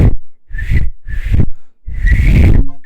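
A person's attempt at whistling: three breathy bursts with a faint thin tone, then a longer airy blow ending in a short clearer whistle, close and fairly loud.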